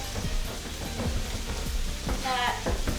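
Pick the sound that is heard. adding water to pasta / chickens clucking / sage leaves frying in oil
sage leaves frying in oil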